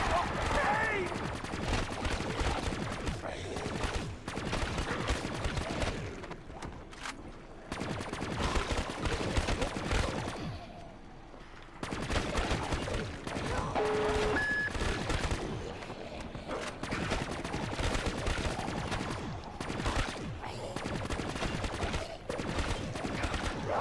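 Near-constant gunfire rattles through a Call of Duty zombies match on the Moon map, with dense automatic bursts and brief lulls while a player talks over the shooting.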